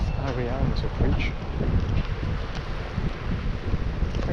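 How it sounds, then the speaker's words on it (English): Wind gusts buffet the microphone in a steady low roar on a bridge in Pattaya, Thailand, with faint background voices and distant outdoor sounds underneath. "It's a little windy today"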